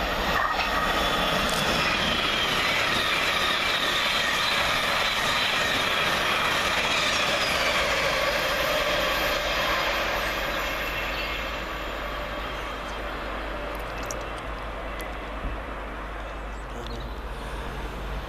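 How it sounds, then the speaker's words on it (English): Govia Thameslink class 700 electric train passing a railway station, a steady loud rumble and rush of wheels on track that holds throughout, with high squeal and faint clicking over the top. "Whilst coming around the corner is 700 143 for Govia Thameslink, working 9 Sierra 28 from Brighton to Cambridge."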